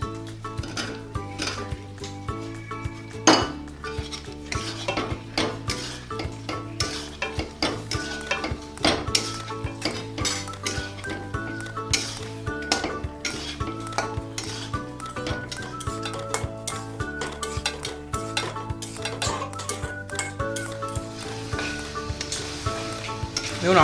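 Fried potatoes are stirred into simmering spice masala for a red chicken curry, giving a steady sizzle with frequent scraping and clinks of a spoon against the pan, close and continuous throughout.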